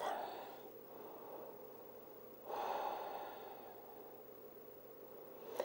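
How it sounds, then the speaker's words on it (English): Slow, audible ujjayi yoga breaths, close and soft, each a long hissing, slightly throaty rush of air, with two clear breaths separated by quiet and no talking. "And now breathe. Find that Ujay breath."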